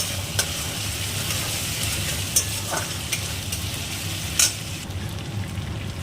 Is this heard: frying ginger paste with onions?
yes